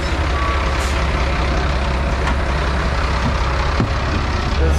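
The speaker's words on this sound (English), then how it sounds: "All right, that's my bus, as it says Juayua." A bus pulls in at a roadside stop on the Ruta de las Flores in El Salvador, its loud engine rumbling steadily with a brief hiss of air brakes and faint beeps.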